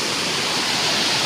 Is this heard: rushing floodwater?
yes